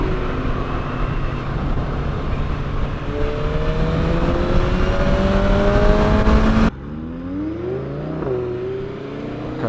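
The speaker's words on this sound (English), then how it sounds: "your car sounds very nice" A powerful engine revs hard, its pitch climbing steadily through the gears up close, then cuts to a quieter, wavering drone with a further rising whine.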